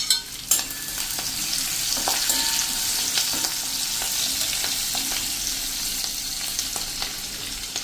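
Chopped green chillies fry in hot oil alongside garlic, giving a loud, continuous sizzle close by, with a few sharp clinks of a spoon against the pan near the start.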